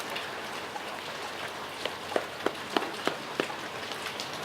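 Light rain falling outdoors, a soft steady patter with a few sharper drops tapping nearby, fairly quiet and with no voices over it.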